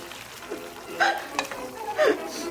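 Vegetables stir-frying in a pan for mala xiang guo tteokbokki give a soft background sizzle, broken by a few brief scraping stirs of the utensil, close but fairly quiet.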